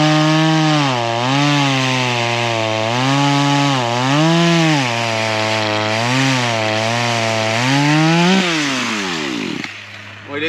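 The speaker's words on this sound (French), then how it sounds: "Et là, on a Zoé qui s'amuse avec sa tronçonneuse." A chainsaw running while cutting wood at a campsite, its engine note rising and falling in repeated revving waves for about eight seconds before bogging down and cutting out, close and loud.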